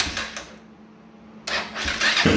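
A Honda TRX400ex ATV engine with a detached carburetor cranks as it tries to start, giving rough, rhythmic starter churning bursts at the start and again after a short quieter pause, fairly close.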